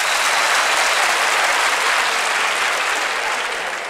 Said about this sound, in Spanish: ¿Cuántos podrían aplaudir los que están de acuerdo con estas opiniones, por favor?